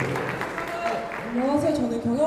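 A small crowd at a student busking event claps, a steady patter of applause close by with voices talking over it.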